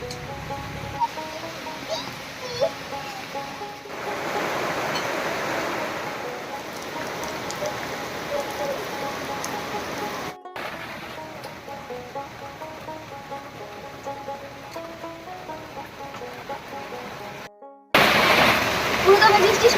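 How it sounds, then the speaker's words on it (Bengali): Heavy rain falls steadily outdoors after cooking a dry fish and dhenki greens meal, a dense continuous hiss of drops on surfaces, loudest midway and again at the end, with occasional voices faintly underneath. "পুরোদমে বৃষ্টি শুরু হয়ে গেছে"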